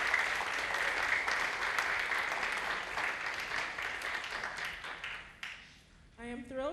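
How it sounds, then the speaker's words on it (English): Audience applause for students at a school awards ceremony, a dense steady clapping from a crowd that fades out after about six seconds, followed by a voice starting to speak. "Could we give all those students a round of applause?"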